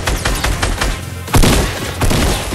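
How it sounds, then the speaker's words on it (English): Loud explosive blasts and thumps from a guided missile launcher in the video game Fortnite, a rapid volley of booms with a heavier blast partway through. "self-guiding missile launcher."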